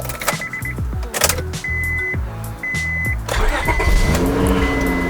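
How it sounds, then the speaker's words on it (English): A car starting up: repeated mechanical clicks and a cranking whir, then the engine catching and settling into a steady idle, close and fairly loud with no voices. "let's get the car started."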